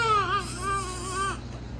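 A baby cries close by in a car, a rising and falling wail that repeats in short waves for just over a second before stopping, with no other voices.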